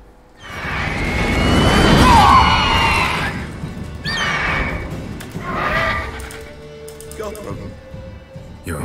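A horse whinnies in The Witcher 3, one long loud neigh followed by shorter calls, with other game sounds around it.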